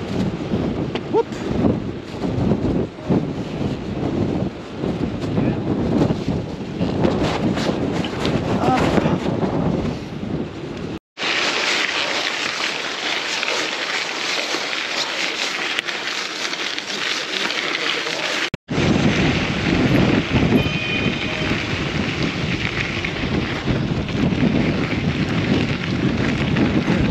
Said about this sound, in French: comme tu l'entends peut-être, ça souffle grave